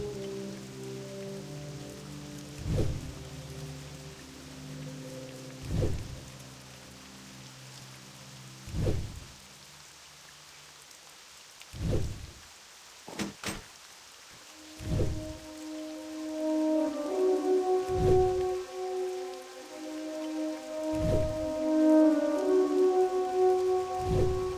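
Rain patters steadily into a roofless inn in World of Warcraft Classic, a soft constant wash punctuated by periodic footstep-like thumps, with game music tones rising in the latter half.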